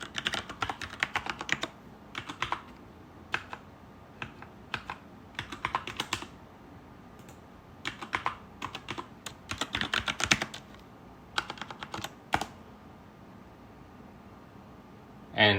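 A password is typed on a computer keyboard to log in: bursts of rapid, crisp key clicks broken by short pauses, ending with a heavier keystroke, close and with no voices.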